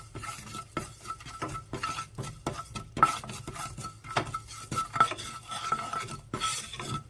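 Cumin seeds dry-roasting in a pan as a spoon stirs them, giving repeated scraping clinks and metallic taps at an irregular pace, fairly faint and close, with no talking.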